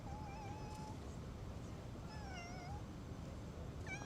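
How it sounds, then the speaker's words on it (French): A sick-looking stray cat meows several times, with thin, drawn-out cries that rise and fall, heard close over a steady background hum. "C'est un chat zombie."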